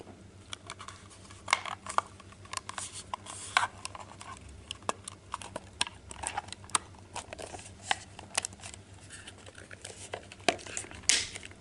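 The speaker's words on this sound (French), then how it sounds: "vous entendez un petit clac, c'est qu'il est bloqué des deux côtés" A plastic housing on a pulse or M-Bus output card module snaps shut, giving faint, scattered small clicks and taps against a quiet background, with no talk.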